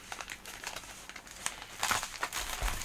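A heavily taped AliExpress mail package is unwrapped by hand, with close crinkling and crackling of plastic and tape, irregular bursts growing louder toward the end, with no talk.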